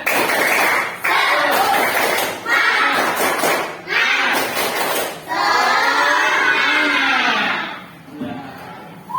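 A class of students does a rhythmic spirit clap in unison, with bursts of sharp clapping and group voices chanting and shouting together, loud and close, before a long drawn-out collective cheer.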